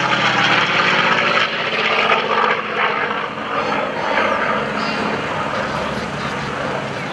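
A Grumman F8F Bearcat warbird flies past at an airshow, its loud, steady engine roar filling the whole stretch with little change in level from start to finish.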